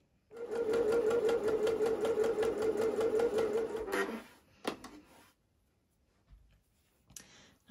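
A sewing machine stitches folded dress fabric in a fast, steady whir that runs for about four seconds before stopping, followed by a few soft clicks and handling noises.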